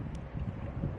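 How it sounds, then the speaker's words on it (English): Wind gusting across a seaside pier at a fishing point in Fukuoka, with boats moored nearby; a steady low rumble of buffeting on the microphone, brief and continuous, with no voices. "even though it's windy"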